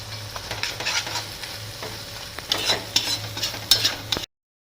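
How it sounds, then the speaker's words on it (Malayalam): A quarter cup of heated vinegar is poured into a pickle and stirred, with a steady sizzling wash and close scraping strokes that grow louder toward the end before stopping abruptly, no voices. "ഇതിലേക്ക് ചൂടാക്കി വെച്ചിരിക്കുന്ന 1/4 കപ്പ് വിനാഗിരി ഒഴിച്ചു കൊടുക്കുക."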